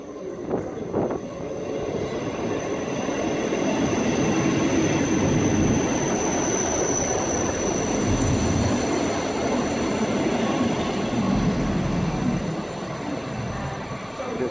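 A South Western Railways class 158 diesel unit in new livery idles at Eastleigh station with a steady low rumble and a faint high whine, growing slightly louder midway and easing toward the end.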